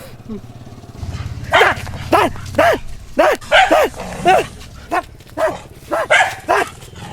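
Dog barking in a Maithili village comedy scene, a steady series of about a dozen sharp barks at a regular rhythm, close and loud, with people talking and a low engine hum underneath.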